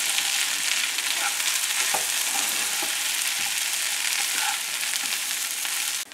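Potato stuffing for samosas cooks in a pan with a loud, continuous hiss of frying and a few faint spoon taps, close and steady until it cuts off.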